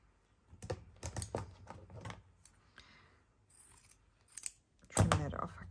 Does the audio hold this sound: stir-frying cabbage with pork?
no